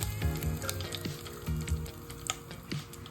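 Shahi jeera and curry leaves hit hot oil for egg pulusu and sizzle loudly up close, with crackling pops and a few stirring scrapes over a steady frying hiss and no speech.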